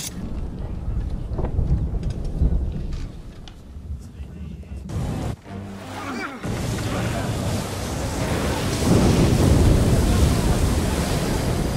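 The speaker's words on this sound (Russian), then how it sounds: "Вы хотите идти прямо на ураган?" Hurricane storm at sea in the video game Assassin's Creed 3: a loud roar of wind and crashing surf with a brief lull midway before surging stronger, as people talk over the din.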